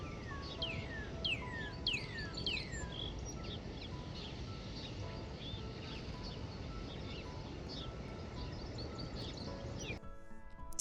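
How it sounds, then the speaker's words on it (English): Northern cardinals and other songbirds sing at Salisbury Beach. Repeated downslurred whistles and chirps come from a moderate distance over a constant outdoor hiss, and there is no speech. "One of the main birds you heard there was a northern cardinal."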